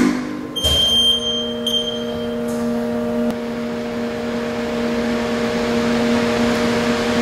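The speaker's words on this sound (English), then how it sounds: "first we're going to power the machine on" A HAAS ST10 CNC lathe powers on and boots up, a sharp click and brief high whine followed by a steady, loud electrical hum and tonal drone from the machine, with no speech.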